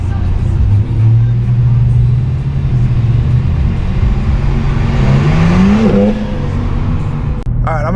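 A BMW G80 M3 drives with its engine and exhaust droning loud and close, the pitch rising as it accelerates, under a person talking.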